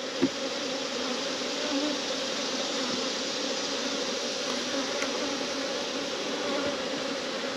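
Insects drone in a steady, close buzz that never lets up, like many bees swarming around a hive.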